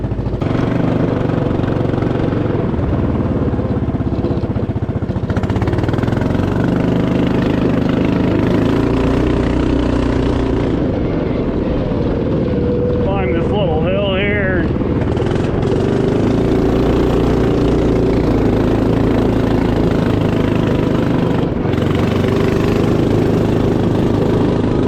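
A Honda Odyssey go-kart built from junkyard parts, with a stock carburetor, runs loud and close on grass, its small engine droning continuously with rising and falling revs and a brief higher-pitched whine midway.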